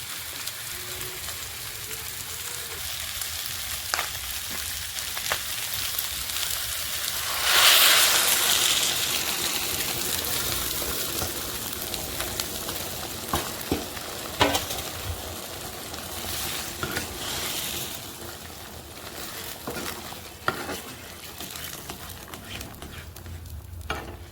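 Lentil dal poured into hot tempering oil in a home kitchen bursts into a loud sizzle partway through, then settles into steady frying and stirring crackle with scattered sharp pops.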